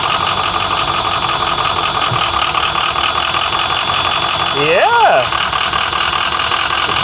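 An old diesel bus engine idles with a steady, knocking rumble close by, and a brief whine rises and falls midway as the slow transmission shifts into gear; a voice speaks briefly.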